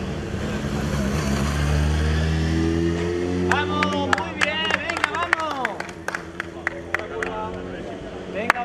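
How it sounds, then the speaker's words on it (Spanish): Spectators at a popular women's triathlon in Villa Alhama clap and cheer, a steady crowd roar with sharp individual claps and an announcer's voice over a public address in the second half. "Fuerte el aplauso ya para la primera clasificada."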